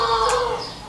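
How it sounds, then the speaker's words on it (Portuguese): A rooster kept at a neighbour's house in Ituiutaba, Brazil, lets out a brief crow, with a mid-pitched call, and no one talks over it. "ouvir esse galo que é criado aqui no meu vizinho"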